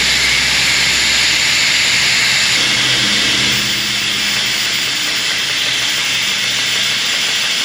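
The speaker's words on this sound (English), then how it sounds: "I'm going to brake clean them real quick, make sure there's no brake fluid left on" Brake cleaner sprays in a loud continuous hiss onto powder-coated brake parts in an auto repair shop, a steady close blast held for several seconds with no pauses.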